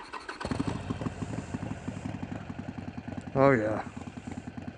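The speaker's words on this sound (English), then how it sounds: "we couldn't take off without y'all hearing the startup with the Vance & Hines mini grenades" A Harley-Davidson Sportster Iron 883 with Vance & Hines mini grenade exhausts, baffles fitted, fires up and settles into a loud, lumpy, rhythmic idle close by, with a brief spoken exclamation over it partway through.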